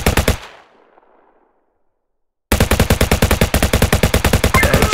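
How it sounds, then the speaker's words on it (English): Gunfire in the Narqubis Android shooting game: a short burst, a sudden silence, then a loud, rapid, evenly spaced automatic volley that runs to the end. "tap and hold to shoot."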